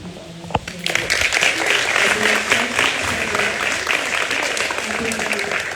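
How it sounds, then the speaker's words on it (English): An audience gives a round of applause for a performance at a domestic violence awareness event, a dense, loud clapping that swells in after a brief pause and holds steady, with voices mixed in. "I want to just give another round of applause for our performance."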